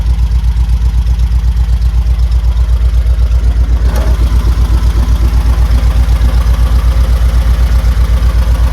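Close, loud idle of a Volkswagen Beetle engine suffering excessive end float: a dense, regular low chugging beat like a tractor, unbroken for the whole stretch, with a brief clack partway through and steady mechanical whir underneath.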